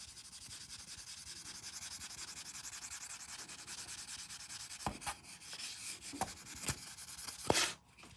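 An eraser rubs back and forth on paper, a continuous close scrubbing with a few sharper taps and scrapes near the end.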